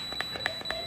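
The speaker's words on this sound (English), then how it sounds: "Sorry about the annoying beeping." Hygger HG043 300W double quartz aquarium heater control beeping as its button is clicked: four short, evenly spaced electronic beeps, close and clear, with no talking.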